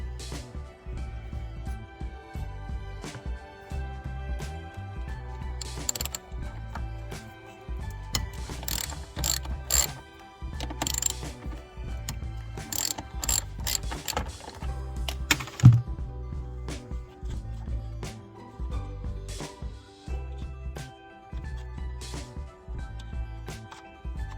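A hand ratchet clicks in close, uneven bursts while loosening 12mm bolts on a Toyota Hiace KZH100 van, broken up by pauses and metallic tool handling.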